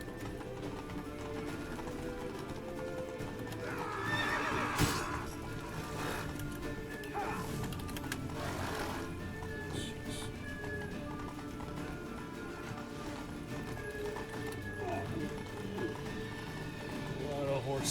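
Horses gallop in a medieval-themed game, their rapid clip-clop hoofbeats running steadily throughout, with a faint whinny possible. Voices talk over the hooves.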